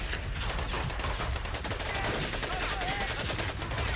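Continuous rapid gunfire in a World War II Pacific combat game, dense overlapping shots and bursts forming a steady loud barrage with faint game voices underneath.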